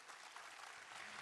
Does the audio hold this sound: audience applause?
yes